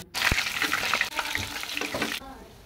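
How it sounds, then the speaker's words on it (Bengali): Marinated pabda fish dipped in a batter of salt and turmeric fries in hot oil, making a loud, close crackling sizzle with popping bursts that stops abruptly near the end. "এবার ম্যারিনেট করে রাখা মাছগুলো ওর মধ্যে দিয়ে তেলে ভেজে নিলাম।"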